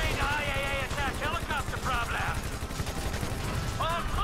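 Gunfire in the video game Grand Theft Auto V, rapid repeated shots running steadily under someone talking over the game audio.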